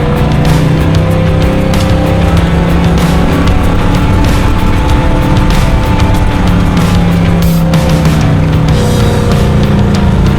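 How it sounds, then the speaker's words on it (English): A 4x4 engine roars continuously under heavy load while climbing through soft desert sand dunes at Sandwich Harbour in Namibia, loud and close with steady droning tones and faint sand and wind noise. "the engine working hard against the soft desert sand"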